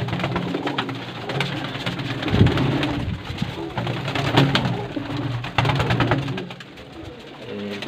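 Golden pigeons cooing in a breeder's loft, repeated soft low coos from several birds close by over a steady background hiss.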